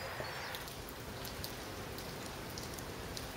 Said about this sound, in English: Newport, and it's drizzling.